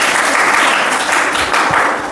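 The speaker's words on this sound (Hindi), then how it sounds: "ताली बजा दी" Applause from a classroom or quiz audience, answering a question about a lion pillar on an Independence Day quiz. The clapping is dense and continuous and stays loud for about two seconds before easing slightly at the end.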